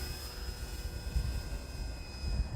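An HK Durafly Tundra V2 RC plane flies inverted at about three-quarter throttle, its electric motor giving a steady, moderately distant drone with slight wavering and no talk over it.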